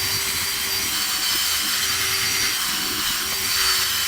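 A DeWalt drill with a long extension spinning a polishing cone against a car gauge cluster lens, a steady, loud whirring hum with a faint buzzing friction throughout.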